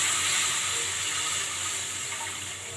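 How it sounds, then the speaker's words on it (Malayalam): Water pours steadily into a pan after rava has been roasted, a bright continuous rushing splash that tapers slightly toward the end, close up with no talking. "ഇപ്പോൾ ഇതിൽ നമുക്ക് വെള്ളം ഒഴിച്ചു കൊടുക്കാം."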